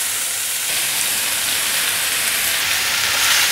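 Tomato and cabbage are stir-fried in a hot pan, producing a loud, continuous hissing sizzle that holds steady and close throughout without pause.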